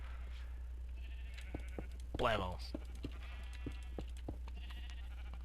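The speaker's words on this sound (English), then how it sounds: "You sheep are making a lot of noise." Sheep bleat in a survival video game, a clear harmonic bleat rising above steady background hum with scattered clicks and the occasional word spoken over it.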